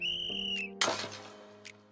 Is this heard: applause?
no